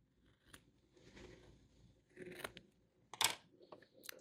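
Scissors snipping the corners off flannel fabric coasters, a few faint close crisp cuts scattered across a quiet background.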